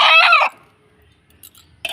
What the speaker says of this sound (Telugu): మా వారు వెళ్ళి కోడిని తీసుకొచ్చారు, నాటుకొని